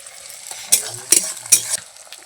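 Carrot, capsicum and green peas stir-fried in a pan for chilli cabbage, three sharp spatula scrapes over a soft sizzle, close and loud.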